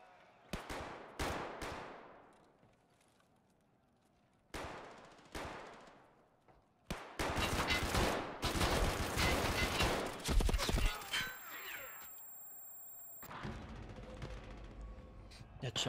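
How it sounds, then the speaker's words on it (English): Gunshots in Escape from Tarkov Arena: several sharp single cracks spaced apart with echoing tails, then a dense sustained volley of rapid fire, fairly close, fading into quieter background noise. "I can hear shots"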